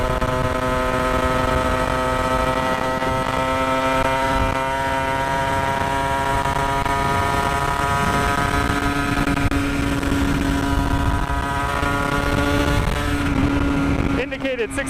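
Aprilia RS50 / YZ85 hybrid two-stroke motorcycle with a slipping clutch ridden on a street, a loud buzzing engine drone held steady at high revs with slight pitch shifts, close, with wind noise throughout.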